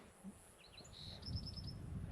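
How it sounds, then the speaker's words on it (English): A black-throated sparrow gives a series of thin, high chirps and a short trill at moderate distance on an off-grid ranch, over a soft low background rumble. "Black-throated sparrow,"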